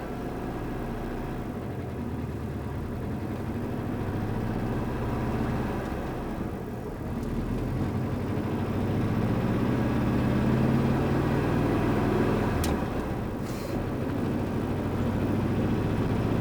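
A 1995 Mexican Volkswagen Beetle, a Jeans limited edition, pulls away in first gear, its air-cooled engine a steady low drone that rises slightly in pitch and loudness as it accelerates.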